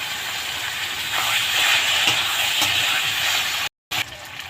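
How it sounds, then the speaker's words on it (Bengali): Fish curry masala sizzles and hisses in hot oil while being sautéed, a steady, close, loud frying crackle with a brief break near the end. "এবার আমি এটাকে দিয়ে আর একটু কষিয়ে নেব"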